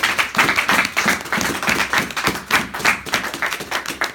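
A church congregation at a Pentecost service claps steadily in praise, dense rhythmic hand claps filling the room at a lively, even tempo without speech.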